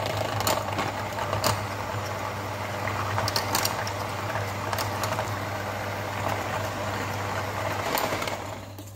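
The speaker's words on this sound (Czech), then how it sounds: "A teď jsme tady vyndali tu pařížskou šlehačku z lednice, no a teď ji takhle jednoduše ušlehám." Electric hand mixer whipping chilled Parisian whipped cream (chocolate ganache cream), a steady close motor whir with a constant low hum and occasional clicks of the beaters against the bowl, with no talk.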